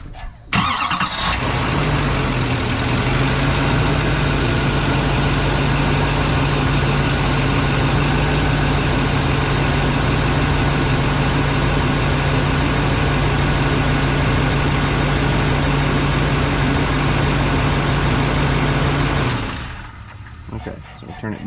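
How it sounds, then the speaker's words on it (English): A 2024 Duramax Denali truck engine idles after a remote start, a steady close diesel hum holding evenly for nearly twenty seconds before cutting off. "we're going to remote start it just for a second, and then we're going to turn it back off"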